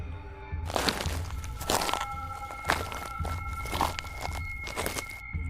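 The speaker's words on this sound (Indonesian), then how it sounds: "sayup-sayup mendengar langkah kaki dari ruang tamu" Footsteps cross a living room at night, a steady series of soft, crunchy treads repeating about once a second over a faint background hum, close and moderately loud throughout.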